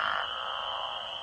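Frogs call in a dense chorus, a close, loud, continuous croaking trill with no voices over it.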